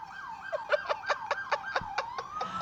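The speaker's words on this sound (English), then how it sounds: "We're in downtown LA and there's sirens everywhere" Emergency vehicle sirens in downtown Los Angeles at night, a rapid warbling yelp rising and falling continuously at moderate distance, steady throughout with no talking.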